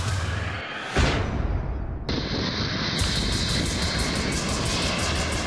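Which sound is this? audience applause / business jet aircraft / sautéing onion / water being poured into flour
business jet aircraft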